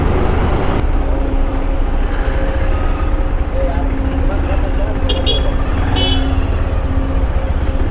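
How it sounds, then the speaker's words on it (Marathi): Continuous road traffic roars on a busy street on the way to Mumbai, a steady loud wash of engines with a brief horn toot near the end. "ट्रॅफिकचा पण आवाज आहे"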